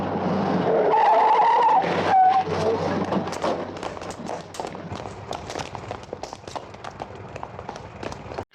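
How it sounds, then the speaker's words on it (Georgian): A car skids with loud tire squeal during a chase scene in a Soviet film, a sharp sustained screech up front that breaks off, followed by quieter scuffling, rattling movement and faint footsteps. "მცირეხნიანი დევნის შემდეგ მანქანას შეაჯახებს კედელს"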